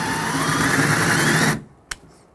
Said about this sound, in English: Put it on reverse and just scratch it up real good first.